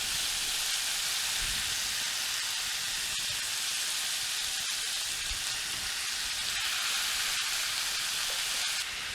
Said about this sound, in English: when frying the ground beef is make sure you fry it well. It needs to have those crunchy bits.